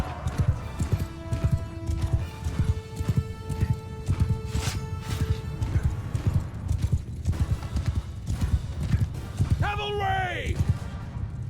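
Horses galloping in a Mount & Blade 2: Bannerlord cavalry battle, a steady clatter of hoofbeats throughout with a neigh near the end and game battle sounds underneath.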